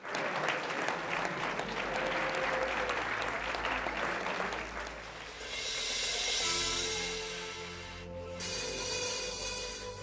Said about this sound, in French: Je vous demande d'applaudir, du coup, RTG et Pablo.